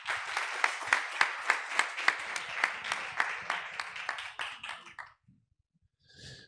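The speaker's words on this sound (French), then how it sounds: "Je vous demande de les applaudir s'il vous plaît" An audience at a conference bursts into applause, with a steady run of rhythmic clapping that builds and then fades out over about five seconds, followed by a brief quiet moment.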